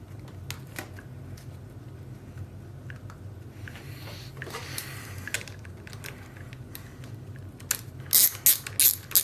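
Bolts on the lever clamp of a Yamaha YZ450F motocross bike are tightened with a ratchet, giving quiet scattered clicks and a handful of sharper, louder ratcheting bursts near the end.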